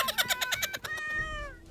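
A house cat in the game Who's Your Daddy meows in a quick burst of rapid chirping mews, then one longer drawn-out meow that fades. It is close and fairly quiet, with no talking.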